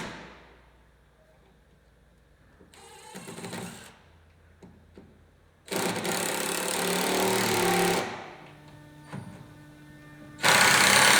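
A power driver sinks zinc-plated 10 by 2.5 inch screws into a wooden gazebo frame, with several separate close, loud whirring bursts of a few seconds each, broken by quiet gaps and faint clicks.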